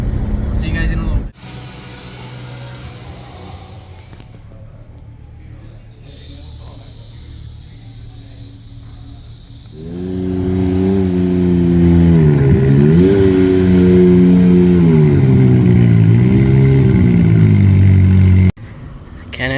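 Can-Am off-road vehicle with an Evo Shift Tech clutch kit, its engine idling steadily, then revving hard and loud with rising and falling pitch for several seconds before cutting off abruptly.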